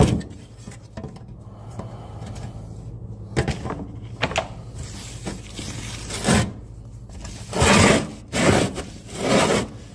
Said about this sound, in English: we're going to give it a wipe down on the inside of here just to make sure we didn't knock nothing in there